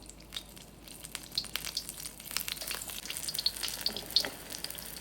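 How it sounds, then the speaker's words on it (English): Batter-coated cauliflower fritters sizzle in hot oil with a soft steady crackle and scattered sharper pops, fairly quiet and close, with no talking. "continue coating the cauliflower in the batter and adding it to the hot oil"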